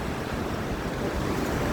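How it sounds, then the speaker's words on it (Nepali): Sursing waterfall in Helambu, Sindhupalchok, Nepal, as a dense, steady roar of falling water that holds loud and unbroken throughout, with no other sounds standing out. "यो चाहिँ सिन्धुपाल्चोक जिल्लाको हेलम्बु स्थित सुरसिङ झरना हो"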